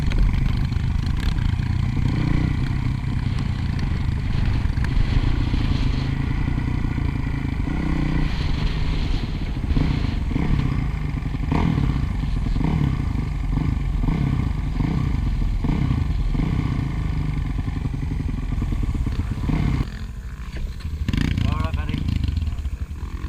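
A dirt motorcycle churns through a mud hole, its mid-pitched engine droning and revving continuously up close with clattering, while a voice talks over it throughout.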